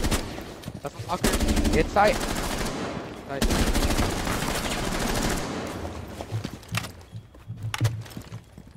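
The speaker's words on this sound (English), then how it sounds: "No, pushing you with the shotgun, Ivan" Shotgun fire in a first-person shooter game: loud, close volleys of rapid shots in two long stretches, then scattered quieter thuds, with a player talking over the action.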